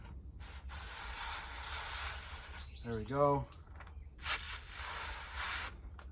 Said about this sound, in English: we're gonna go ahead and spray that off